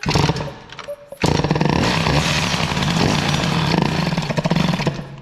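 A Peugeot 103 moped with a boosted stock Doppler setup coughs briefly, pauses, then catches and runs loud and close, its two-stroke buzz revving and holding high with a raspy, steady drone.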